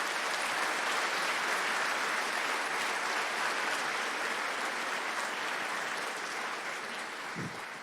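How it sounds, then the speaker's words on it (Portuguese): An audience at a Holocaust memorial ceremony in São Paulo gives the attending dignitaries a round of applause. The clapping is steady and sustained for several seconds, with a roomy, slightly distant sound that fades a little at the end. "E agora uma salva de palmas a todos eles."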